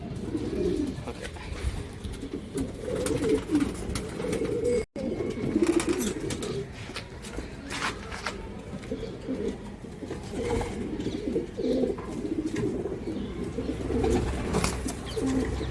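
Pigeons coo steadily in a low repeated murmur through an outdoor scene with water nearby, overlapping and continuous, with some background noise and a brief dropout.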